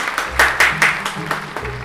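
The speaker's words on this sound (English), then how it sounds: "Everyone give AJ a round of applause." A small audience at a Halloween special claps in a loose, uneven patter of separate hand claps, fairly close and moderately loud, lasting under two seconds.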